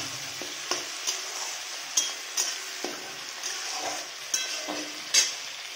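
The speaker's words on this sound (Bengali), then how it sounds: "এখন এখানে আমি টমেটোটা একসঙ্গে ভেজে নেব।" Tomatoes frying with onions in a pan, giving a continuous hiss and sizzle broken by repeated stirring scrapes and light taps of the spoon, close and alone without talk.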